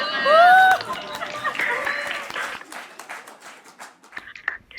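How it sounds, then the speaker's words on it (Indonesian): A crowd claps and cheers after a short whoop, the applause loud at first then thinning into scattered claps. "Tepuk tangan."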